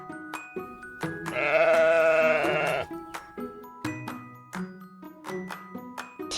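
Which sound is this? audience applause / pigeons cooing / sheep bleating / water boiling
sheep bleating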